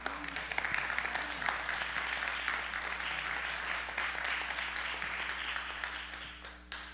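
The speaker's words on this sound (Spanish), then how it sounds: "Dele un aplauso al Señor." Steady applause from a church congregation fills the room at moderate volume, sustained for several seconds before tapering at the end.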